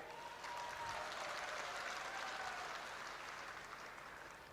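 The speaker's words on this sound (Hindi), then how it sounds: "अभी ताली बजाई है" Crowd at a political rally in Bhind applauding a speech, a loud sustained burst of clapping that swells after a brief start and fades slightly, with no talking over it.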